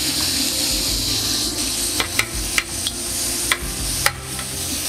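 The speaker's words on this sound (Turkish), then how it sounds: "Hızlı bir şekilde dediğim gibi soteliyoruz." Meat and peppers sautéing in a pan give off a steady close hiss, marked by several sharp ticks and scrapes of stirring, with no voices.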